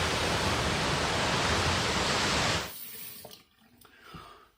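Tap water gushes steadily into a sink while rinsing after a shave with a Merkur Futur clone razor, loud and close for a few seconds, then cuts off, leaving faint drips and handling sounds.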